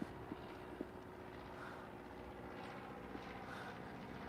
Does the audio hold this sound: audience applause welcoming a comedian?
no